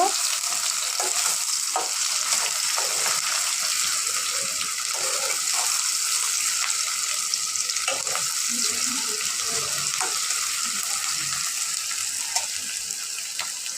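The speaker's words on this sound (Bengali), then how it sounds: "তো আমাদের পেঁয়াজ ও রসুনটা ভাজা হচ্ছে" Chopped onion and garlic frying in hot oil, giving a steady sizzling hiss with intermittent stirring scrapes and soft bubbling throughout, no voices.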